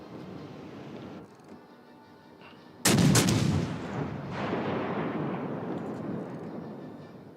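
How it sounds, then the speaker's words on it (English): Heavy guns firing in a video game: a loud booming volley bursts out after a quieter rumble, then rolls into a long, dense roar of continued fire that slowly thins out. "These guns are very accurate."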